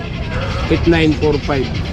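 Goat bleats at an outdoor pet market in Bocaue, a few wavering calls close by, overlapping with nearby voices.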